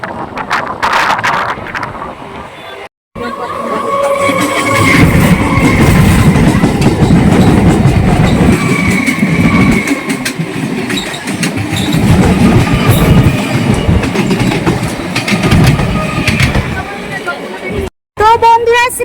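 A Howrah–Tarakeswar local train in West Bengal running between Rishra and Serampore, with a steady loud rumble, rattling carriage noise and wind buffeting throughout, interrupted by two brief dropouts.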